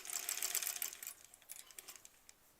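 Quiet, rapid stitching from a sewing machine working on a quilt block, a bright buzzy run that thins into lighter, scattered ticks toward the end.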